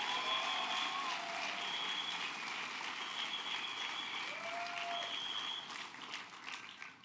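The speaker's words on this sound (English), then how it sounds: "Let's give him a round of applause." Convention audience at the 2014 New York Democratic Convention applauding Mayor de Blasio, a steady wash of distant clapping from a large hall, tapering off near the end.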